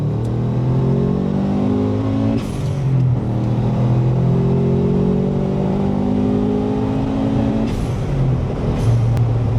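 Subaru Impreza with 212,000 km on the clock, engine revving hard under full-throttle 0-100 acceleration from a standstill, loud and close, climbing through the revs with brief drops at gear changes.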